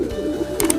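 Pigeons coo softly inside a loft, a low steady murmur of calls running through the short moment with a faint rustle toward the end.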